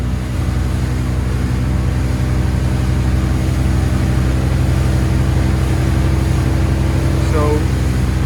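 Bayliner 255 boat with a Mercruiser 5.0L MPI 260HP Bravo 3 engine running at speed on the water, a loud steady engine drone and rush that holds throughout, with a brief faint tone near the end.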